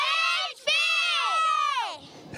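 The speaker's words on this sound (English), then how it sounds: "one more cheer for you girls" A girls' soccer team shouts a cheer together in unison, a loud sustained group yell in two bursts with a brief break between, ending in scattered chatter.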